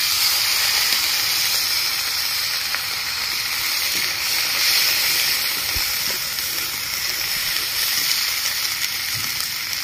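Ginger garlic paste sizzling in a hot cooking pan for a jackfruit biryani, giving a steady, bright frying hiss that holds at an even level throughout, with no voices.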